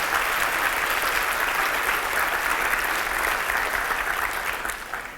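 A congregation applauds during a church service, steady, dense clapping from many hands held at an even level before tapering off at the end.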